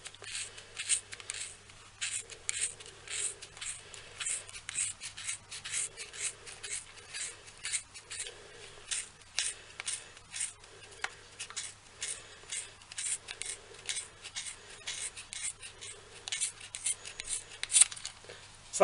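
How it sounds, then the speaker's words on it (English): Scissors snip repeatedly through thick wool wound around a pair of pom-pom makers, a quiet rhythmic crunching and rasping of blades close by, steady cuts continuing throughout with no talking. "go down the centre of both the pom-pom makers with your scissors"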